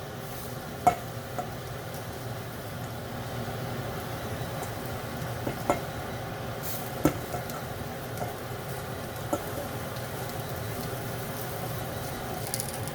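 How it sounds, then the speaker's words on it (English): Mixed vegetables grill in an oiled pan while being tossed to coat, giving a steady low sizzle. Occasional sharp clicks and scrapes from the pan break through, and nobody speaks. "give them a toss in the pan so they're evenly just coated in the oil"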